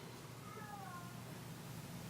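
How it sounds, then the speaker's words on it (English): A pet cat yells with a couple of drawn-out rising and falling cries in the first half, faint against steady low background hum in a quiet room. "My cat's yelling."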